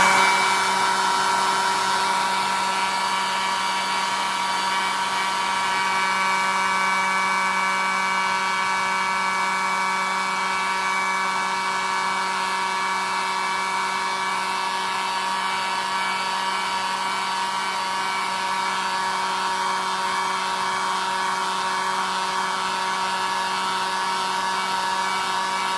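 A hair dryer runs steadily for the whole stretch, drying paint on an owl painting: a continuous close whir with a strong motor hum, unbroken and fairly loud, with no talk.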